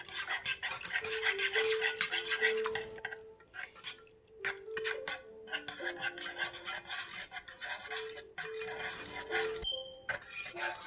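Whisk rattling and scraping steadily around a glass or bowl of natural drink mixed with ground ginger and turmeric, close and fairly quiet, with brief clinks and pauses between bursts of stirring.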